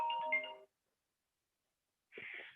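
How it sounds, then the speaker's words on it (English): A phone ringtone trills in two short bursts of bright, warbling tones, separated by about a second and a half of silence, close and fairly loud with no talk over it. "Hold on a second. I got a phone call."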